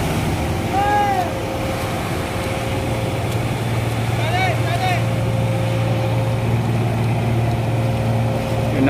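Continuous low motor hum of an Italian-made trash-collecting boat machine working on Manila Bay, steady and close beneath wind and water noise, with a few brief high chirping sounds over it.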